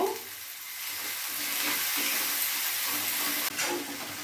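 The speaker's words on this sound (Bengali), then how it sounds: "মশলাটা কিছুক্ষণ কষিয়ে নেব যেন কোনো কাঁচা গন্ধ না থাকে" Spice paste with Kashmiri chillies and a little water sautés in oil, producing a continuous moderate sizzle with soft stirring scrapes and a short sharp knock partway through.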